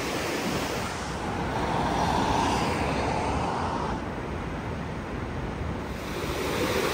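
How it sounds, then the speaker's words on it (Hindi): A river rushes past in a steady, close, dense roar of flowing water, continuous throughout and mixed with wind noise on the microphone, with no voices. "देखो ये नदी है, ये आवाज़ कर रही थी।"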